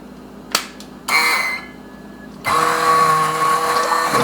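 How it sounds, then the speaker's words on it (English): An immersion blender whirs in bursts while breaking up tomatoes for a from-scratch lasagna sauce, a short clack and a brief whine first, then a loud sustained motor hum. "we're going to hit this with the immersion blender"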